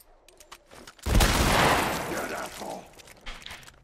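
Gunfire from The Last of Us crackles in a sudden dense burst of shots, loud and close, then tails off into scattered echoing reports.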